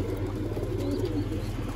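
Soft, low pigeon cooing among game pigeons in a loft, faint and muffled under steady background rumble.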